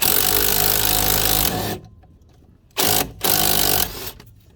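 An impact wrench works on a strut bolt on an Aveo, loud rattling bursts: one long run, a pause, then two shorter hammering bursts close by, no speech.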